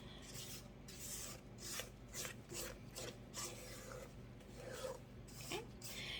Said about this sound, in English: I just want to scrape the bowl just to make sure we got everything